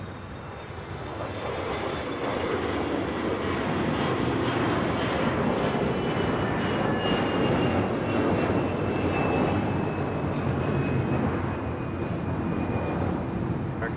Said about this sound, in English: This is American Airlines 990 taking off to Atlanta, Georgia on an A321.